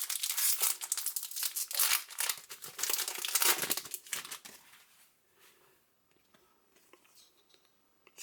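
Topps UEFA Champions League 2022/23 soccer card packs are torn open, giving loud close crinkling and ripping of foil wrappers that fades into soft shuffling.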